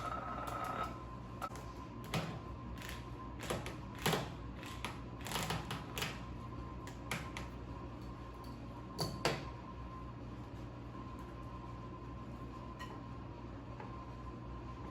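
A manual opener works around a can of tomato paste, giving a quick run of close, sharp clicks and ticks over the first ten seconds, followed by quieter background.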